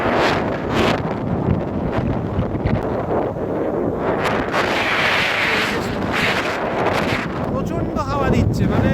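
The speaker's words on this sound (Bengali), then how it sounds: "প্রচন্ড হাওয়া দিচ্ছে, মানে ঝড়" A strong stormy wind on Chandrabhaga beach buffets the microphone in loud, close, continuous gusts with sharp bursts, and indistinct voices are faintly mixed in.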